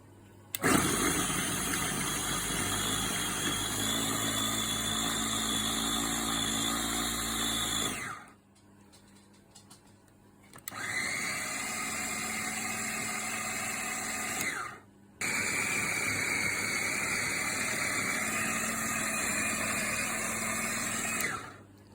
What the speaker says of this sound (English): I'm going to use 2 because this is going to make short work of this, and it'll chop it nice and finely as well